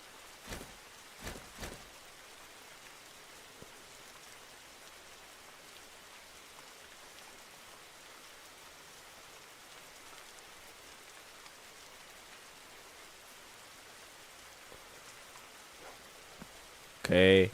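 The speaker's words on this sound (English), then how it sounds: "And it's raining?" Rain falling in a Roblox video game, a steady soft hiss that continues throughout, with a few brief clicks near the start and a louder burst at the very end.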